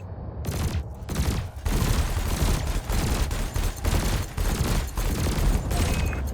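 Ship weapons in Elite Dangerous firing at canisters during combat training, a loud steady run of rapid blasts with short pauses between bursts.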